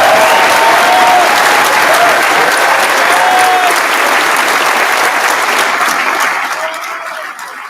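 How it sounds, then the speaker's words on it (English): An audience at a university graduation ceremony applauds and cheers the graduating class, a loud dense wash of clapping from a large hall crowd that holds steady and then begins to fade toward the end. "invite all of you in the audience to please join in applauding and cheering"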